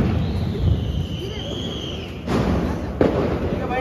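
Diwali firecrackers going off outdoors, with a rising whistle followed by sharp bangs amid constant crackling background noise and voices.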